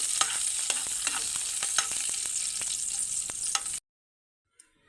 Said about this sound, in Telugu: ఇది కూడా ఆయిల్లో వేసుకుని ఫ్రై చేసుకోవాలండి